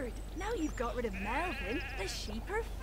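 Sheep in the video game Overlord bleat in several wavering calls, one after another, close by. Someone speaks in the background.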